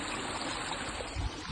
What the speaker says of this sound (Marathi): छोटा धबधबा आहे मुंग्यांसाठी